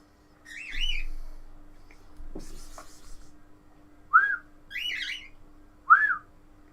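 A crow calls from a tree just outside a window, harsh repeated caws sounding in separate bursts at a moderate distance, with quiet room noise and a few faint knocks between them.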